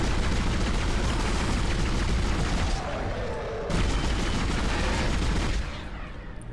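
A rapid-fire weapon in the Dead Space video game shooting in sustained loud bursts with a brief pause midway, the firing dense and continuous.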